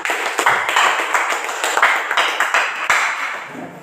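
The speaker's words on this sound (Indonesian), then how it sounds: "Mari kita berikan tepuk tangan." Audience clapping after a group presentation in a classroom, a modest group of hands with uneven, distinct claps, close and fairly loud, trailing off at the end.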